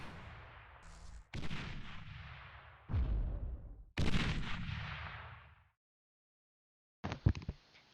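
Units in Beyond All Reason lob high-trajectory artillery, with several loud, sharp cannon reports in quick succession, each trailing off into a rumbling decay, then a pause of silence before another burst of shots.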